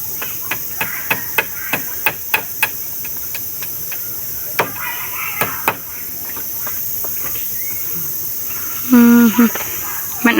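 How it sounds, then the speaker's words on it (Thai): Hammering on bamboo while building a small thatched hut outdoors: a series of sharp, separate knocks at an uneven pace, with crickets or insects buzzing steadily behind them and a brief tonal sound near the end. "มันอาจจะตอกยากนี่เนาะเอาไม้ไผ่"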